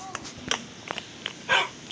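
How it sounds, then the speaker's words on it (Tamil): A Minecraft dog barks in short, sharp yips at irregular intervals, fairly close, with a louder bark near the end against a quiet background. "கீழே நாய் குலைக்குது சவுண்டு கேட்டுச்சா"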